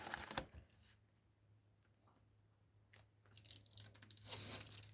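Card or paper being cut with a few sharp close snips at the start, a quiet pause, then a longer run of crisp cutting and rustling handling noises near the end.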